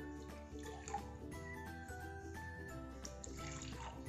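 Mint margarita juice pours into glasses filled with ice, producing a continuous liquid splash and trickle with light clinks of ice over nearly four seconds, close and moderately loud.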